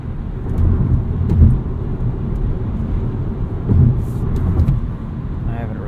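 A 2016 Volkswagen Jetta 1.4T SE cruising in S mode, with a low steady engine and road rumble swelling slightly in places, heard from inside the cabin while a voice talks over it.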